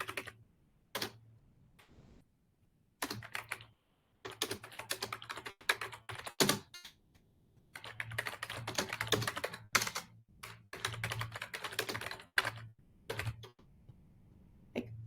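Typing on a computer keyboard to fill in a form description: quiet, close bursts of rapid key clicks broken by short pauses.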